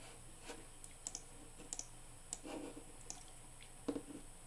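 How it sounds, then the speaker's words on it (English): Faint, scattered clicks from a computer mouse at a desk, sparse and irregular over a low steady room hiss, with a small burst of soft clicks near the end. "I keep clicking the wrong thing."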